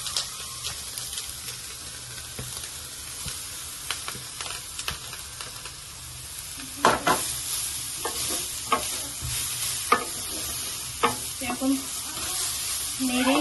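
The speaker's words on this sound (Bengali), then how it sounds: "নেড়েই যেতে হবে বন্ধুরা, নাহলে যাতে কড়াইতে না ধরে যায়, এইভাবে নেড়েই যেতে হবে" Grated carrots frying in ghee in a kadai for carrot halwa, with a soft continuous sizzle and intermittent scraping strokes of the stirring spoon, some louder clacks near the end, and a brief spoken word.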